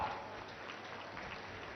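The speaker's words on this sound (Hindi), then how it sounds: "तालियों की गड़गड़ाहट के साथ" Crowd applause at an outdoor unveiling ceremony on the Sangam riverbank in Prayagraj, a steady faint wash of many hands clapping continuously throughout, heard from a distance without breaks.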